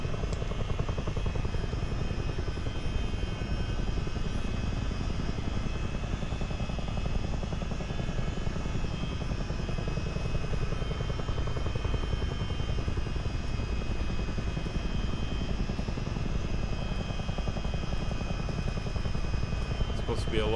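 A CH-47D Chinook tandem-rotor helicopter in a flight simulator game drones steadily and loudly throughout, a dense continuous engine and rotor roar with constant vibration and no pauses.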